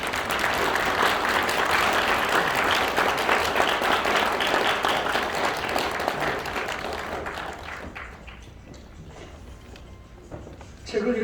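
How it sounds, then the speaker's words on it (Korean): Audience applause at a seminar event, sustained dense clapping that gradually thins and fades toward the end, with a brief burst near the close. "여러분 박수로 좀"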